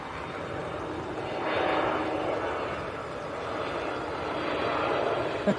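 A Pegasus airliner from Antalya at Manchester Airport, a broad steady engine roar that swells and eases slightly, heard from a distance.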